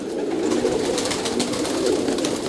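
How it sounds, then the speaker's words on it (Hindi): Champion racing pigeons in Lahore coo together in a loft, a dense steady murmur of soft overlapping calls that continues throughout, close and fairly loud. "ये सारे बाजी मेकर कबूतर हैं।"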